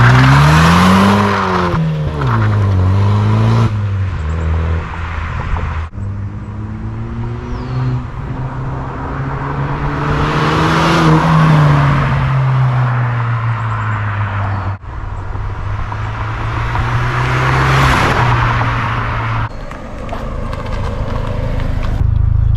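A Saturn Sky sports car with an active exhaust slides sideways, its engine roaring loud and close through several rising and falling gear pulls, with a tire-scrub texture under the exhaust note.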